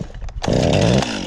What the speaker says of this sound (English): put it in the start position, hold the throttle down, and just pull and pull and pull.